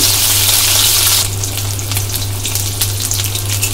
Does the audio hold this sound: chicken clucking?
no